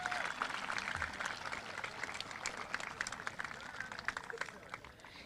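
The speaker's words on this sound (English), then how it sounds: "Let's give another round of applause." A graduation audience applauds after a symphonic band performance, a dense, steady wash of clapping from a large crowd outdoors, sustained and fairly even throughout.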